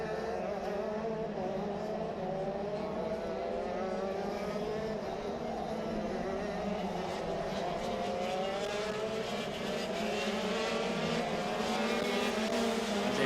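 KZ2 shifter karts race past on a track at a heat, their high-pitched two-stroke engines droning in a steady overlapping wail that rises and falls as they circle the circuit.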